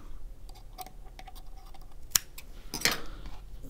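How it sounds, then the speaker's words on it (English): Two sharp scissor snips trimming cotton wick beside the deck of a Cthulhu Artemis MTL RTA vape coil, each a quick crisp click close by amid quiet handling noise. "you bend your cotton down to the deck, and then you cut by the dent"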